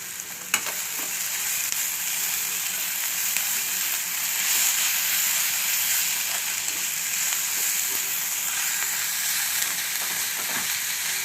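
Onions, curry leaves and garlic sauté in a pan for a Tamil raw-banana poriyal, giving a steady bright sizzle with occasional stirring scrapes close by.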